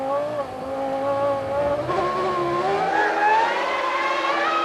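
Formula One cars from the 2000 season, a Ferrari and a Williams, scream past at racing speed, their high engine notes rising and falling loudly as they chase through a corner.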